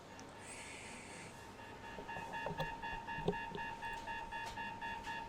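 A fire station alarm in the Emergency 4 (EM4) emergency-services video game, a steady pulsing electronic beep tone starting after a moment, repeating evenly over a faint rumbling background without talk.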